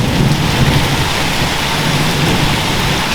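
A thunderstorm with heavy, steady rain pouring down and low thunder rumbling beneath it, loud and unbroken throughout, with no voices.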